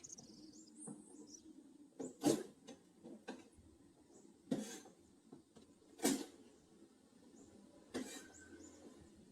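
A knife smashes garlic cloves and onion on a cutting board, several sharp, separate thuds spaced a second or two apart with small clicks between, close and fairly quiet with no talk.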